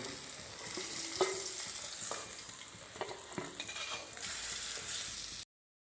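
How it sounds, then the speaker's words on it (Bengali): Magur catfish fry in oil in a pan, giving a steady hiss of sizzling with occasional clinks and scrapes of stirring, moderately close and with no voices. "মাছগুলো লাল লাল করে ভেজে নিতে হবে যাতে লেগে না যায়।"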